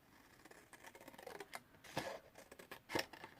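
Big scissor blades snip through card along a score line in a quiet room, a few crisp, separate cuts, the loudest two near the end.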